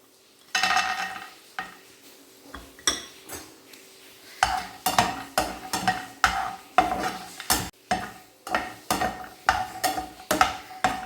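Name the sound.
almonds being fried and stirred in a pan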